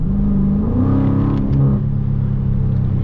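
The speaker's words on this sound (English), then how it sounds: "mid muffler and rear resonator delete sounds pretty good in my opinion" A 2023 Dodge Challenger Scatpack 6.4 with mid muffler and rear resonator deleted idles loudly up close, its deep V8 exhaust rumble rising briefly in a short rev before settling back.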